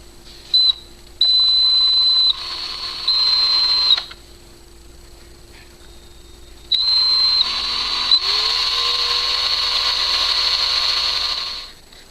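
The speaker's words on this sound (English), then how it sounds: "I'm going to drill this hole right here where my nail is going to go" A small power drill whines in short high-pitched bursts while boring a hole in a plastic Saab 9-3 visor mirror, then runs steadily for several seconds, its pitch rising slightly before it winds down and stops.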